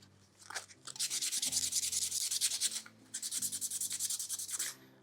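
Steady back-and-forth scratching of sandpaper on wood, close and rhythmic, rasping strokes repeating for several seconds.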